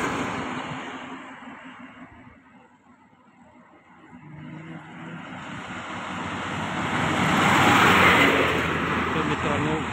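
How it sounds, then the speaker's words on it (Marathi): Vehicles rush past at high speed on a highway through rural country, heard as a broad roaring wash of road and wind noise that swells and fades, with someone talking over it. "हाय स्पीडमध्ये गाड्या जात आहेत."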